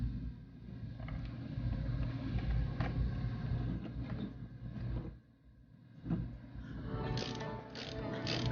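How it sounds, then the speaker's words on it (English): A torque wrench ratcheting on a car's exhaust work, close metallic clicking and ratchet sounds in uneven bursts, with a short pause midway and a sharper clicking run at the end. "There's the torque wrench."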